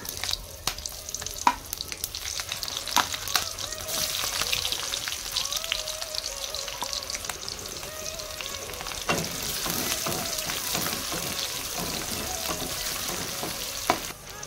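Cumin seeds and green chili fry in hot oil in a pan, a close, continuous crackling sizzle with scattered pops and occasional stirring scrapes throughout.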